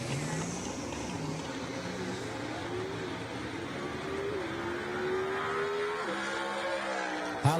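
A 1956 gasser drag car runs down the track at Jackson Dragway during a Southeast Gassers Association race, heard from a distance as a fairly faint engine note that rises in pitch as it accelerates.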